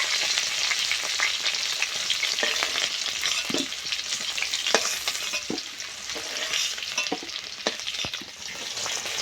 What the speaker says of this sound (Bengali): খুব সুন্দর লাল লাল করে আলুটাও ভেজে নেব